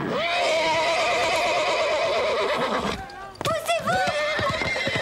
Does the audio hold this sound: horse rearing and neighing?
yes